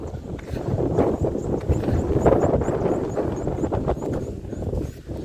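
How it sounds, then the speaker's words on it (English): Strong wind buffets the microphone at an outdoor spot among large houses in a residential area of Kenya, producing a steady, loud rumbling roar throughout with no pauses. "It's so windy in this area."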